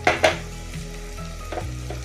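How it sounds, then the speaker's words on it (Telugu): Tomato masala with chili powder sizzling in a pan for chicken pulao, a steady close fry with a couple of sharp clinks of a spoon stirring at the start and another soft scrape later. "టమోటా ఇలా మగ్గాక ఇప్పుడు కారం వేసుకుందాం"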